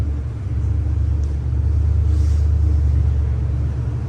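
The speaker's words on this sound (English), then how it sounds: "Like I said, the engine, you got a 350" A 1968 Chevrolet C10 pickup with a 350 V8, Holley carb, Weiland intake and headers idles steadily, a deep continuous rumble held close with no talk.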